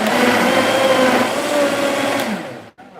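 A countertop blender whirs loudly at high speed while blending a hydrogen water drink, a steady close motor roar that holds for over two seconds before winding down and cutting off.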